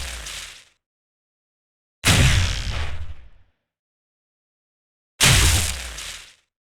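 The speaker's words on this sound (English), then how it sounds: "For the shotgun, a deep and powerful explosive impact." Deep, explosive bullet impact sweetener made for a shotgun in a game: three heavy, booming blasts with rumbling low end and crackling tails about a second long, separated by silence.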